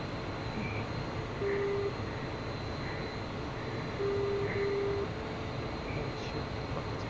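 The F-16 Viper jet engine in the DCS World flight simulator game makes a steady, even cockpit drone. Faint tonal beeps and short hums sound over it at intervals, with no talking.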